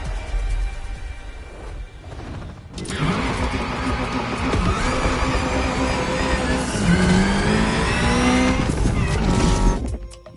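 A Ferrari LaFerrari supercar in the racing game The Crew Motorfest, its engine revving loud and close, rising in pitch through gear changes with tire squeal, sustained for several seconds after a brief lull.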